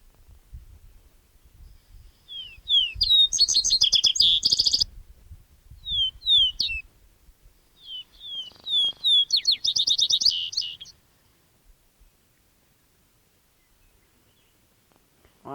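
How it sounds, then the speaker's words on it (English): A grasshopper sparrow sings out on the eastern Colorado plains, giving several bursts of high, thin chirping and buzzy trills with short pauses between, clear and fairly close over faint low background rumble, then silence. "Well, I definitely say it's a grasshopper sparrow."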